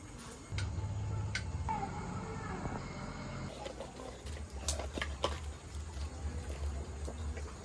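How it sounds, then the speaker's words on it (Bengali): Rice and lentils bubble in a pot for khichuri, a soft low simmering patter with faint ticking close by, steady for several seconds and then quieter. "চাল ডাল এই যে ফুটছে"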